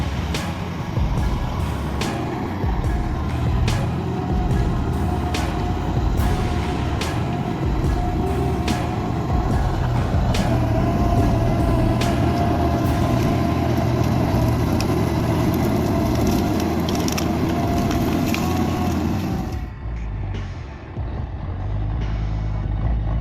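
A bulldozer with a large shovel blade advances into a ditch, its heavy engine rumbling loudly and steadily with scattered clanks before the sound cuts away near the end.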